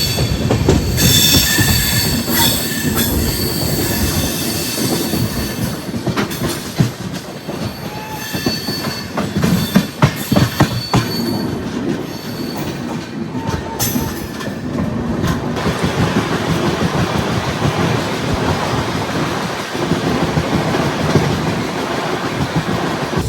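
A Jan Shatabdi express train travels near Deoband Junction on the Delhi route, loud and close throughout with rumbling wheels, rhythmic clickety-clack over rail joints and sharp metallic squeals and clanks.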